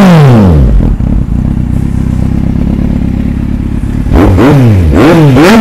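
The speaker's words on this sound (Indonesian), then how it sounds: "Ini bunyi pun sedap, original Scorpion exhaust" A Kawasaki Z800 motorcycle fitted with its original Scorpion exhaust revs loudly at close range, settles into a rumbling idle, then gives several sharp throttle blips near the end.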